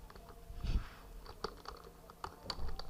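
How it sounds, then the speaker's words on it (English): Light typing on a computer keyboard while entering a search term in the Unity 3D editor, with a few scattered soft key clicks and a low thump, close and quiet with no talk. "let's type texture"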